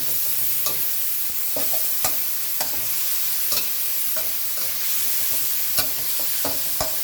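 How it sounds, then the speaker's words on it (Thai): Pork and garlic are stir-fried together in a pan for rad na. A loud, constant sizzle runs under regular sharp clacks of a spatula striking the pan, roughly one every half second to second. No voices are heard. "เราก็ใส่กระเทียมลงไปค่ะ แล้วก็ไปผัดด้วยกันอีกทีหนึ่งนะคะ"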